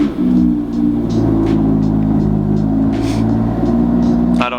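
A BMW F87 M2 engine starts and settles into a loud, steady idle with a deep throbbing rumble, close by inside the car, with faint clicks over it.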